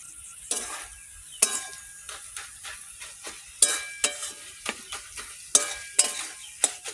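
Prawns go into a hot pan with taro flowers and fry, giving a steady sizzle broken by repeated sharp scrapes and clinks of a spatula stirring against the metal pan, close and fairly loud.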